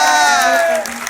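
Audience applause at a Hindi poetry recital, a dense burst of clapping that starts loud and fades slightly toward the end of a brief moment.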